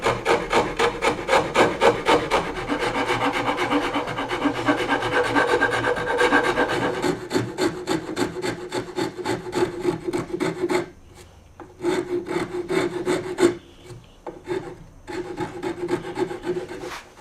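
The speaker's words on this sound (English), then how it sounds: "I'll grab a couple of smaller files and I'll start forming that in now" Small hand files rasp over a wooden Stratocaster guitar neck in fast, steady back-and-forth strokes, close and loud, with brief pauses and shorter strokes toward the end.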